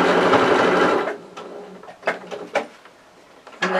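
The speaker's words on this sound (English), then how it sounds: "I'll just sew down the side of the body like so" A sewing machine stitches down the side of a sewn toy body in a steady, fast mechanical run for about a second, followed by a few short clicks and thumps as the stitching stops and the fabric is handled.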